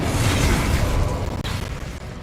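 A fire spell cast in Hogwarts Legacy, a loud roaring burst of flame that fills the whole moment with dense, crackling rumble, briefly dipping before carrying on.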